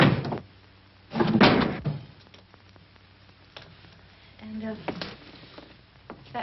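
An old kitchen door is opened and closed in a 1941 film scene, with a couple of loud bumps and rattling knocks separated by quieter moments, as someone talks over the sounds.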